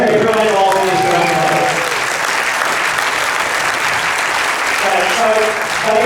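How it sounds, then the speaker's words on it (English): An audience at a live film Q&A claps for the cast and crew, dense sustained applause that stays loud from start to finish, with faint voices mixed in. "Another round of applause for everyone involved in this film."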